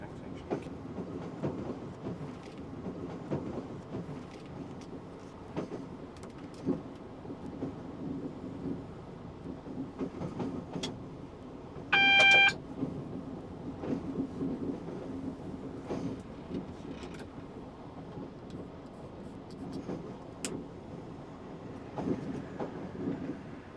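A 1991 passenger train runs between East Croydon and Farringdon in London, with a steady rumble and rhythmic clatter of wheels on track throughout and a brief, sharp whistle-like tone partway through.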